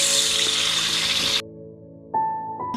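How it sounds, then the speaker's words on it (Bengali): Pieces of meat for a roast hit hot oil with a loud, broad sizzling hiss that lasts about a second and a half, then cuts off abruptly, leaving a low hum and a few faint tones. No one speaks. "মাংসগুলো চুলায় দিয়ে দিয়েছি। এখন এগুলা ভেজে নেব।"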